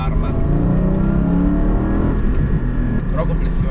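A Porsche Cayman GT4 718 engine revs hard while driving, a loud continuous high-rpm roar with rising harmonic tone that eases slightly near the end.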